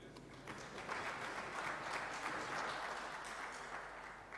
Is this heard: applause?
yes